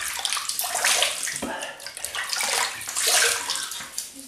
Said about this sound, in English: I'm just going to wet my face